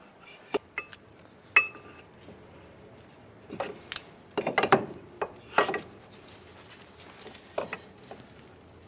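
Ratchet clicks and metallic clinks while a caliper bracket bolt is threaded in on a 2002-2007 Jeep Liberty front brake; short scattered bursts of ratcheting, close and moderately loud, with quiet pauses between.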